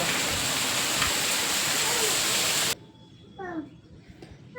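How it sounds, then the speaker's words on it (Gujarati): Heavy monsoon rain pours down at Girnar, a dense, loud, steady hiss that drowns everything else, then cuts off abruptly to a much quieter background with faint, distant sounds. "વરસાદ જુઓ તમે કેટલો પડે છે"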